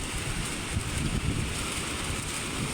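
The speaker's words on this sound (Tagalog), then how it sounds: "Lakas mo ng hangin" Steady, rushing wind noise over large waves buffets the microphone throughout, a constant broadband roar with low rumbling gusts and no voices.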